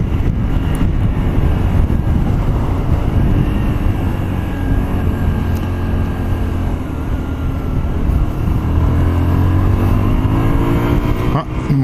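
Honda Varadero 125 motorcycle accelerating, a loud, steady engine roar with rising pitch and heavy wind buffeting across the mic throughout, no voices.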